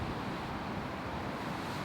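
Strong, steady wind roars across a golf course, blasting the microphone with a dense, continuous rush of noise that fills the short stretch with no talking.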